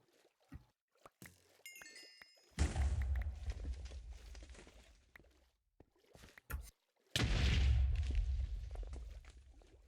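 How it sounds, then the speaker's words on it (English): Minecraft explosions in the Ragecraft 3 modpack: two loud booming blasts, each followed by a decaying rumble, with small thuds and item sounds between them. "Explosion."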